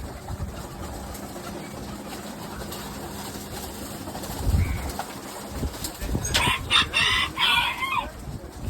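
About fifteen pigeons coo and flutter in a pen, a soft rustle of wings and low cooing, then brighter chirping rising near the end.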